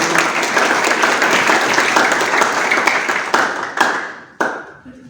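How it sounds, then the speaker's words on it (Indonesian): A church congregation at a Sunday service at a theology school in Tawangmangu breaks into loud, sustained applause, many hands clapping together close by and filling the room, then tapering off with a few last claps. "aplaus untuk Yesus Tuhan?"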